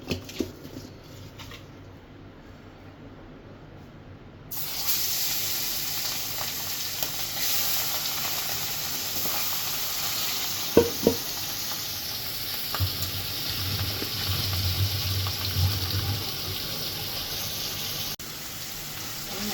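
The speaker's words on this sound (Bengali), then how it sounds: "মাছ ভাজা হয়ে গেছে তো মাছ ভাজা নামিয়ে নিলাম" Small jatka fish, seasoned with salt, turmeric and chili powder, frying in hot oil: a loud continuous close sizzle starts a few seconds in and holds steady, with occasional spits and faint clicks, no talking.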